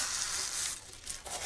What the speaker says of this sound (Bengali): এবারে চলো জিরেগুলো দেখিয়ে দিই, কী কী জিরে ভাজা হবে